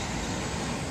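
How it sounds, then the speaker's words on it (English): Dump truck passing by on a road, a steady rumbling engine and road noise sustained through the short moment without speech. "A dump truck."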